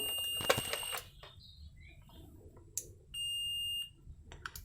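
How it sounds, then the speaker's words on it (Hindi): A faulty multimeter damaged by 220 volts beeps in buzzer (continuity) mode, giving a steady high electronic tone held for over half a second amid faint clicks and handling noises. "इसके अंदर कुछ बिगड़ गया है, इसके वजह से यहाँ पर बीप लॉन्गर टाइम तक दे रहा है"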